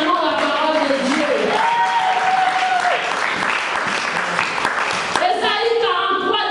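A congregation at a women's church convention applauding, steady dense clapping that fills the hall throughout while a voice talks and sings over it.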